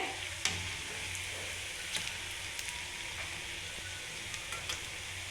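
Urad dal vadas fry in hot oil with a steady, even sizzle, broken by a few sharp clicks and taps as they are turned over. No one speaks.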